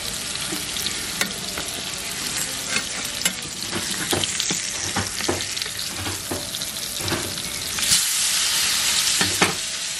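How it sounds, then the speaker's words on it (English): Steady crackling sizzle of salmon frying in a hot pan, with occasional sharper pops and faint clinks over a continuous hiss. "Okay, so now I'm just flipping the salmon."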